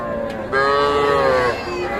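A single cattle calf at a livestock market in Dinajpur lets out a loud, close moo lasting about a second, with market bustle faintly behind it.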